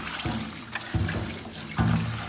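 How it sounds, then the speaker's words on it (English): Cold water is rinsed over a rabbit pen in a run of splashing gushes. Three stronger surges pour and spatter close by against a steady wet background, and no one speaks. "I'm just going to give it a rinse with cold water as well."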